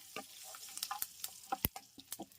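Spices crackle and sizzle in hot oil, with quick popping ticks scattered over a soft steady hiss, close and quiet.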